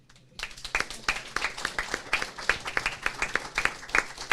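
An audience at a Board of Education meeting honoring art teachers and student artwork gives a round of applause, sharp distinct claps building quickly into a lively, uneven patter in a reverberant hall.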